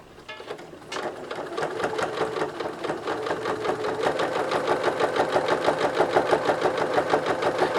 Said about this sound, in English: Let's sew 16 layers. This is actually drapery fabric.